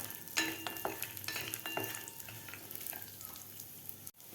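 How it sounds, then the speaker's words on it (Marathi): Dry fruits frying in ghee for shevai kheer, with a soft crackling sizzle, a few sharp clinks of a spoon against the pan near the start, then a quieter steady fry. "एक मिनिटभर आपल्याला हे ड्रायफ्रूट फ्राय करून घ्यायचे आहेत"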